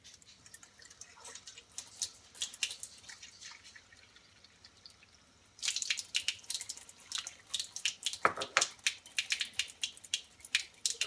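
Half a cup of water poured into a bowl of oats for oatmeal, heard as a close, irregular trickle and dripping splashes that turn louder and busier partway through.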